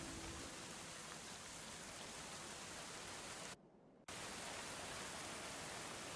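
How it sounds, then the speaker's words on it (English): Steady rain pours in the medieval colony-building game Going Medieval, an even hiss of falling drops that fills the clip, broken by a brief half-second gap of near silence before the downpour resumes at the same level. "The animals are now in the barn, getting rained on."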